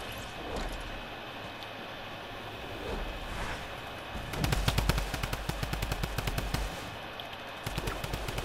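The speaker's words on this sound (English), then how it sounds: "And well, this is the drum gun spam." A drum gun in Fortnite fires in rapid, dense bursts, loud and close, with several sharp repeated volleys after a quieter stretch of game ambience.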